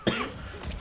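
A streamer coughs up close, one sharp burst followed by a rough, throaty tail and a second smaller cough near the end, loud against a quiet room.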